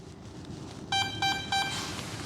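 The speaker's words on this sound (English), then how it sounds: "1 long beep, 1 short beep" An electronic speed controller on an FMS T-28D Trojan model plane gives three short, evenly spaced beeps over a background of steady noise, with no voices.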